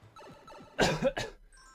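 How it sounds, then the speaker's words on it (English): Quiet talk, then two sharp coughs close to the microphone, one after the other. "I do apologize about the cough"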